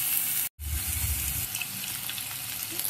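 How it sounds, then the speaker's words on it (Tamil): Chopped onions sautéing in a pan as the base for a soup, a steady soft sizzle that continues alone after a brief silent gap near the start. "வெங்காயம் சேர்த்து வதக்க போகிறேன்."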